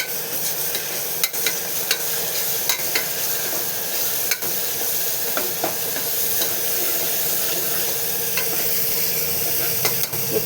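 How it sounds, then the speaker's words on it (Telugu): Ginger and turmeric fry in a pan while being stirred, giving a steady close sizzle broken by regular sharp scrapes and taps of the spoon, with no voices. "1 స్పూను పసుపు వేసుకొని బాగా కలపాలి."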